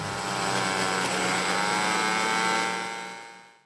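A disc launcher wheel tearing apart at speed: a loud, sustained high-speed whirring roar with a harsh grinding edge, holding steady for a few seconds before quickly winding down and fading out.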